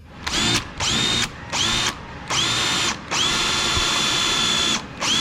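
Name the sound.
power drill drilling into wood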